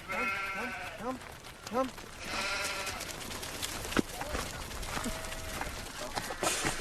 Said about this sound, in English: Bloody wandering sheep on the road.